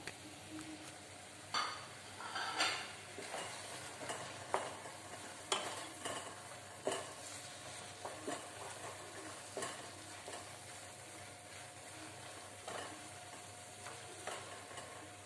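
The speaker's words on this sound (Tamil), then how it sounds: "இப்போ வந்து நம்ம ஃப்ரை பண்ணி வச்சிருந்த மஷ்ரூமையும் அதில் போட்டுக்கோங்க." Pre-fried mushrooms are stirred into a simmering mushroom gravy in a pan, giving a steady low sizzle broken by repeated scraping, stirring strokes at an uneven rhythm, close and fairly quiet, with no voices.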